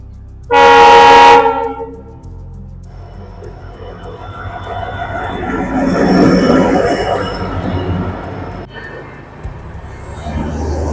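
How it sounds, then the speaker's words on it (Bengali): A loud train horn blares once, then a Vistadome tourist special train rumbles past close by in the Dooars, wheels squealing and clattering, the noise slowly easing off. "এই যে ভিস্তাডোম ট্রেন গেল"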